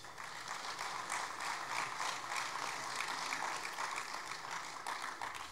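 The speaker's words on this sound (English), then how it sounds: "A huge round of applause to the girls swimmers." A school hall audience at an annual sports awards ceremony applauds girl swimmers, a dense, continuous wash of clapping from many hands, fairly distant and steady throughout.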